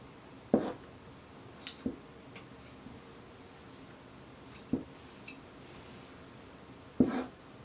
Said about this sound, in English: I'm going to grab some really good scissors and we're just going to cut a square.